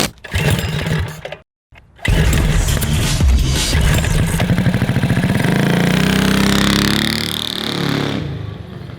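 A Predator 670 V-twin engine on a 4WD go kart runs loudly up close, cutting out briefly near the start, then roaring back with a rapid, steady throbbing that rises in pitch as it revs, with no talk over it.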